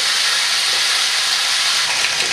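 Soy basil chicken grilling on a small grill gives a steady, loud sizzling hiss that holds evenly from start to finish, with no voices over it.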